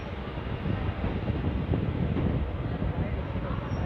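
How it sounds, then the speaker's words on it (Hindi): The 22421 Delhi–Jodhpur Superfast Express rumbles along with a steady, continuous low roar and wind-like rush, moderately loud and unbroken, nearing Jodhpur Junction. "दोस्तों अपनी ट्रेन अब जोधपुर जंक्शन पे पहुंचने वाली है"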